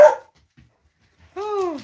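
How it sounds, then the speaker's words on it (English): Dogs at home at night: a short bark at the start, a pause of near silence, then a longer whining bark-like vocalization, close and fairly loud. "They're going to go bark at things"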